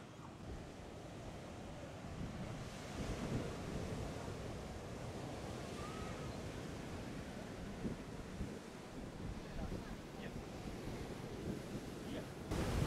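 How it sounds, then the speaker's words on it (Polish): Sea waves at Darłówko beach on the Baltic during a small storm, a continuous roaring wash of surf mixed with gusty wind buffeting the microphone, steady and loud for the whole stretch with no voices. "W tej chwili na morzu jest mały sztorm."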